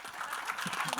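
Audience applause at the Mumbai trailer launch of Indian 2 with Kamal Haasan and Shankar, dense steady clapping and crowd noise filling a large hall, with faint voices mixed in.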